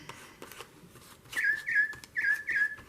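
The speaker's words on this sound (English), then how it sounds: "That's my bird clock." A bird clock sounding its hourly bird call: a series of four clear whistled chirps in two pairs, bright and close, following a few soft taps in a quiet room.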